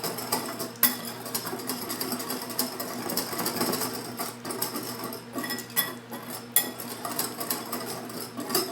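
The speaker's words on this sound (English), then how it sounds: "Kind of pre-mix our mix. And break up any big chunks we got." Dry pumpkin pie cupcake ingredients are stirred together in a bowl, giving a steady scraping, rustling texture with scattered light clinks against the bowl and no talking.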